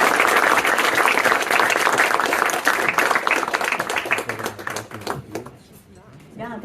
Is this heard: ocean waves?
no